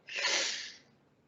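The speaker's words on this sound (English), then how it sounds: "I gotta clear my throat." A single harsh, breathy burst like a throat being cleared or a sneeze, about half a second long, close to the mic, then quiet.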